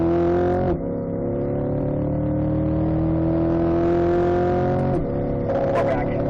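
A Corvette engine revving on a race track lap, a loud, sustained droning roar that holds and climbs, with sharp drops at gear changes around the start and end.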